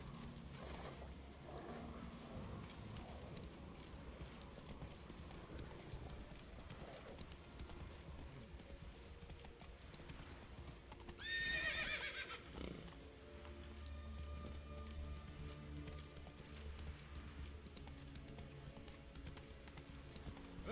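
Hooves clip-clop at a steady gallop in The Witcher 3 video game, a quiet rhythmic pattern all the way through, with a brief whinny partway along and someone talking faintly underneath.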